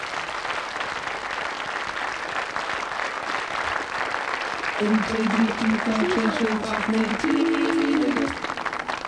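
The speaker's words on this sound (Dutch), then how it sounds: "Tribune, geef er eens even een goed applaus." Television studio audience claps in a continuous, moderately loud burst of applause while a short musical jingle plays over it in the second half.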